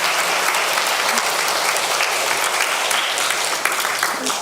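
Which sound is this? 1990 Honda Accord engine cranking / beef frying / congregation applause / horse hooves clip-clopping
congregation applause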